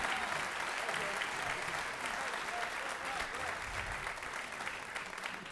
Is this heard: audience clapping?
yes